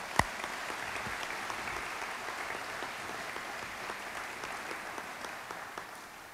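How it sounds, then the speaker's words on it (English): Steady applause from a family reunion audience in Lancaster, PA, a sustained even patter of many hands clapping at moderate distance, with no talking over it. "Let's have a round of applause."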